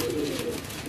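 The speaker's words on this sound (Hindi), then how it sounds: "लाल आंखों वाले मेरे पास कमाल के कबूतर हैं" Red-eyed pigeons give a brief, low coo, soft and close, fading quickly against a faint background.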